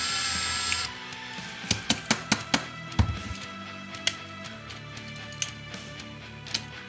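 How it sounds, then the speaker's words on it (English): A small drill whines briefly, then a series of sharp clicks and taps follow as the bit drills out the rivets on the bottom of a die-cast toy car up close. "die-cast cars like these are super easy to disassemble by drilling out these two rivets here on the bottom"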